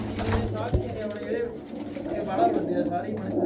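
Pigeons coo softly at a fair where flying pigeons are shown, their throaty calls mixed under nearby talking and crowd noise.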